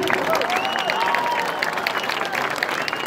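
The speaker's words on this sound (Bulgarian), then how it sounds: "Отново моля ви за много силни аплодисменти за отбора на Русия!" Sustained crowd applause with cheering at a fireworks world championship in Panagyurishte, Bulgaria, dense and continuous throughout, with some voices mixed into the noise.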